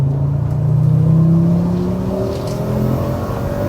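Engine induction roar from a Fiat Coupe under acceleration, rising steadily in pitch as revs climb, loud and close from inside the car with no talking over it.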